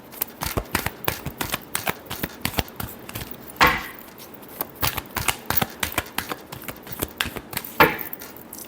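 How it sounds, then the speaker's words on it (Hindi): Tarot cards riffled in repeated quick shuffles, a dense crisp flutter of card edges with two louder bursts, close and steady with no voice over it. "Last shuffle."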